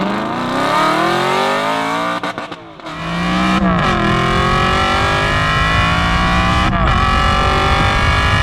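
An Aston Martin 4.3 V8 Vantage with upgrades revs hard while driving, its engine note climbing and falling through several gear changes, loud and close, with brief lifts of the throttle.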